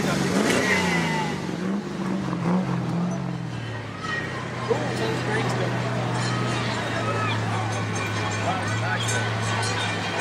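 Mercedes-AMG cars arrive at a gathering, engines rumbling and revving in a steady low drone amid crowd babble and outdoor bustle, with a brief rev at the start.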